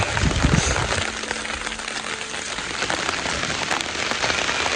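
Heavy rain pouring down outdoors in a steady, loud, dense hiss of drops hitting the ground and leaves, continuous and close throughout.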